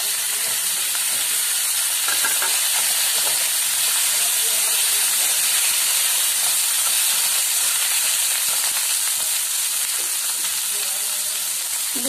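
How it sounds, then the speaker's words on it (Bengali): Eggplant frying in a lightly oiled pan for a Bengali pabda fish curry, a steady close sizzling hiss running throughout with faint stirring noises. "দিয়ে দিলাম বেগুন"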